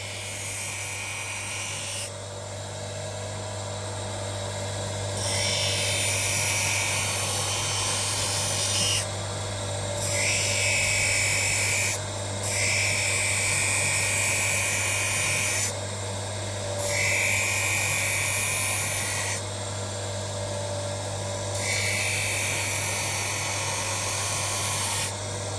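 An optician's edging machine grinds the edges of a progressive eyeglass lens, giving a loud, continuous whirring drone with a steady low hum beneath it. The grind surges and eases in repeated cycles, with no voices.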